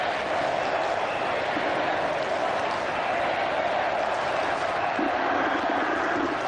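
A full house of about 40,000 cricket spectators at Eden Park for the 1992 World Cup semi-final, a steady dense roar of murmuring, shouting and applause with no pauses, loud and broad.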